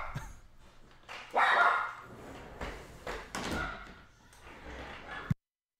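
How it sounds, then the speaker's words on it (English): Barking from a dog in the same room as someone on a livestream, coming in sharp close bursts with a loud flurry near the middle, then cutting off abruptly. "My mom dog is here and she goes nuts, so I apologize for that."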